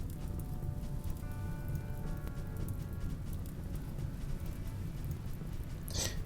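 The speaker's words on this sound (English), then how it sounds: "Thank God for the rain." Steady rain falls in the Rimworld video game, a constant close hiss of drops with faint thin tones and a brief crackle at the end; no talk.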